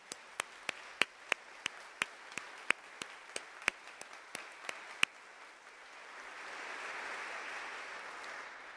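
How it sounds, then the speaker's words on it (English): Slow, evenly spaced claps ring out alone in a quiet church for about five seconds, a sparse handful of hands rather than a full congregation ovation, then fade into soft room hush and murmur. "Can we give some applause for that 50 years?"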